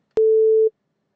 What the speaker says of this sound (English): I'm just going to change that to a sine wave